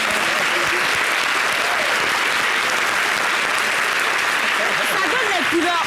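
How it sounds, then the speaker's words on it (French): Applause from a studio audience on a French-language television talk show, dense and sustained at full loudness, with voices faintly audible beneath the clapping. "Je pense qu'on peut les applaudir"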